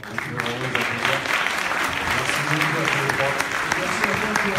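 An audience at a conference on hip hop and advertising claps in sustained, even applause, fairly close, with a voice speaking over it.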